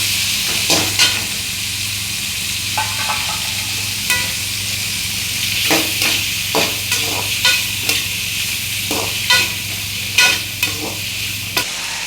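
Chopped tomatoes sautéed in oil in a pan while making oily brinjal (ennai kathirikai) kuzhambu, with a steady close sizzle broken by repeated scraping stirs of the spoon, no voices.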